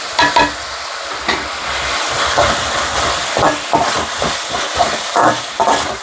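Tomato and onion sizzle in a pan while a spoon stirs and scrapes through them in irregular strokes, close up and fairly loud.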